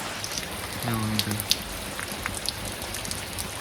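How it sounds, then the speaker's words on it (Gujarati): Steady patter of rain falling on a surface in a village in Botad, Gujarat, with scattered droplet ticks and a brief voice in the background. "મસ્ત મજાનો વરસાદ ચાલુ થયો છે"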